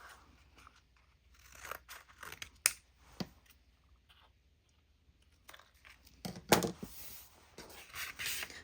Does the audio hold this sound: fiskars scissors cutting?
yes